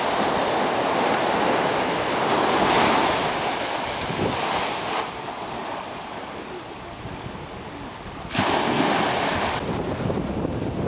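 Sea waves and steady wind at a hotel beach club by the shore, a continuous rushing surf with gusts swelling and easing, loud and close, with no talking.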